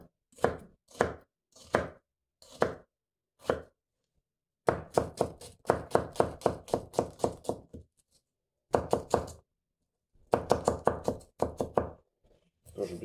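A Petty kitchen knife with an S grind and CPM S90V steel chopping an onion on a board, crisp repeated knocks in quick rhythmic runs separated by short pauses, close and loud with no talking.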